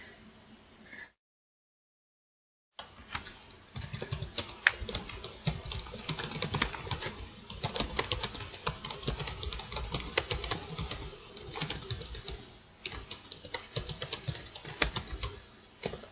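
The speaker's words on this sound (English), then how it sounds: "sorry about the loud typing," Loud typing on a computer keyboard: dense, rapid key clacks, close and continuous after a brief silent gap near the start.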